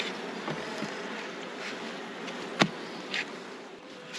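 Honey bees hum around an opened orange hive during a beehive inspection, a faint, continuous buzz with a few brief louder passes of bees close by.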